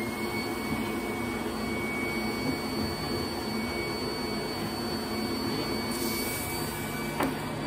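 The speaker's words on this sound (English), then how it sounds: "When I feel like I have it lined up, I'm gonna flip on the vacuum so my paper doesn't move." The vacuum of a screen printing table, switched on to hold paper in place, runs as a steady, loud whirring hum with a thin whine on top, joined by a brief clatter near the end.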